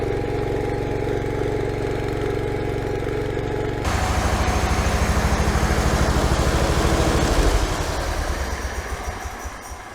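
An old garden tractor engine runs steadily, close by, shifting to a rougher, faster chugging rhythm midway before gradually slowing and quieting toward the end.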